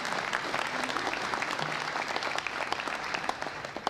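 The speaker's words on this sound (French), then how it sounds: "Vous pouvez l'applaudir." Audience applause at a New Year's greetings ceremony for local residents: steady, dense clapping from a large crowd, moderately loud and continuous, with no speech over it.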